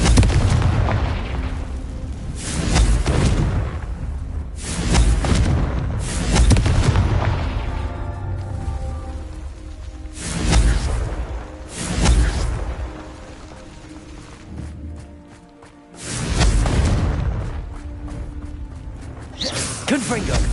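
Confringo blasting spells from Hogwarts Legacy, cast at rocks while exploring, erupting as a series of loud booming explosions roughly every few seconds, each swelling and decaying, with a voice calling out the spell between blasts.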